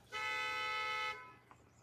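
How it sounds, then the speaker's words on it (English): A car horn gives one steady honk lasting about a second, clear and moderately loud against quiet background noise, then a faint tap follows. "Who's honking their horn?"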